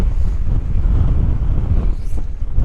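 Strong wind on a winter mountain walk in Glen Brittle, Isle of Skye, buffeting the microphone in a loud, continuous low roar that surges and gusts throughout.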